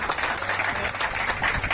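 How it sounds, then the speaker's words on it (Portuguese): Audience clapping at the closing ceremony of a bonsai contest and exhibition, a brief steady patter of many hands filling the room as placings are announced. "uma salva de palmas"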